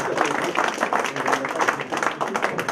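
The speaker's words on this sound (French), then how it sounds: "Je crois qu'on peut les remercier et les applaudir aussi" Applause from a gathered crowd at a Téléthon charity aperitif, a continuous, fairly even patter of many hands clapping throughout, with a hint of voices mixed in.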